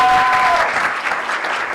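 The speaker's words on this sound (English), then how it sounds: "A big round of applause to her, please." Loud applause from an audience at a women in media mentoring event, a thick continuous roar of clapping that fades slightly toward the end, with a faint tonal whistle early on.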